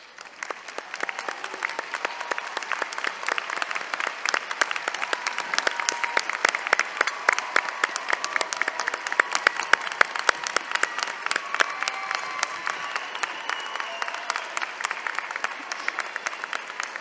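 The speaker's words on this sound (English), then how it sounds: "I'd like to ask you all to stand and join me in a few rounds of applause" Sustained applause fills a university public health commencement ceremony at Berkeley as graduates clap together, a dense and steady crowd ovation holding at even volume throughout with no speech over it.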